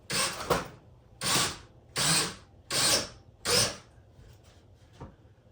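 A power drill drives screws into wall studs to hang cheap DIY garage shelves, five separate loud, close whirring bursts in steady rhythm, each about half a second with short pauses between, then quiet clicks.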